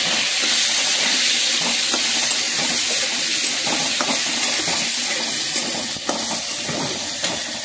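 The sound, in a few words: potatoes frying in a pan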